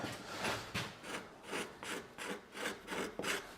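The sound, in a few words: carving wood across the grain, shavings coming off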